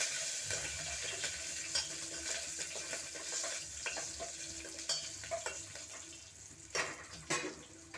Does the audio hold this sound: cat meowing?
no